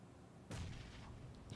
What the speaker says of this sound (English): They're nading us.